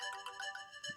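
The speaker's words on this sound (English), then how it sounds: "That is a Sony Xperia ringtone." A Sony Xperia phone ringtone playing through a phone speaker, a short bright melodic phrase of repeated chiming notes, alone and fairly clear.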